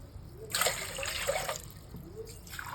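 Water pours from a glass into a pot in a close, bright stream for about a second, pauses, then a shorter pour begins again.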